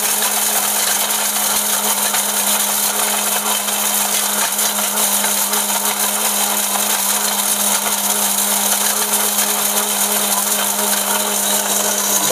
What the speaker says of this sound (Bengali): এরকম ধরনের ব্লেন্ডারের মধ্যে এই যে হলুদ, এটার মধ্যে মাত্র আধা কেজি হলুদ দিলাম ভাই